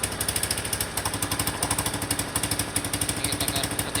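Rapid mechanical pulsing from a Suzuki Spin 125 scooter engine running with the secondary air valve being opened and closed, a steady close chattering rhythm with no talking.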